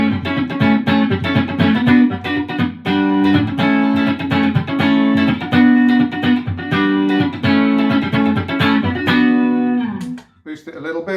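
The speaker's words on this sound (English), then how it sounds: "On the single coil it sounds a bit like this." Electric guitar, a Harley Benton Fusion HSS on its single coil pickup, plays a melody with a clean, bright, sustained tone, loud and alone before a brief pause and pick noise at the end.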